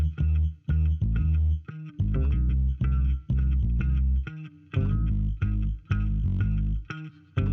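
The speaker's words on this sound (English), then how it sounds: "there's like a little bit of distortion underneath the regular bass" A hip hop mix plays its bass bus with a layer of distortion beneath the clean bass, processed with a Handsome Audio Zulu, thumping in loud, rhythmic note bursts with gritty, buzzing overtones and short gaps between hits.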